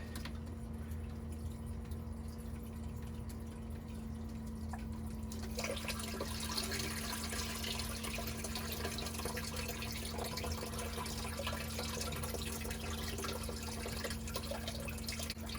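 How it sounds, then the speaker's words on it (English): Water flows continuously over a screen in a saltwater reef tank, a soft steady trickle that grows fuller after a few seconds over a low constant pump hum. "So there you could see the water going over the screen"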